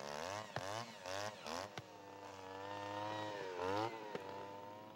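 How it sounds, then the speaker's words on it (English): Small gas-powered power auger drilling into compacted stream bank soil for riparian tree planting, its engine droning steadily with a few sharp revving surges, fairly faint and without voices. "sometimes a power auger is used to break up compacted soils for easier planting"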